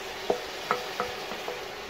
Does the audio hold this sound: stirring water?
yes